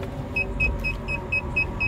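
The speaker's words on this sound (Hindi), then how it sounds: "आइसक्रीम लेने के लिए भाई मैं गाड़ी बैक ले रहा हूँ," A car reversing at night in Noida, its reverse-gear alarm beeping in a steady, regular series of about eight short tones over low engine rumble.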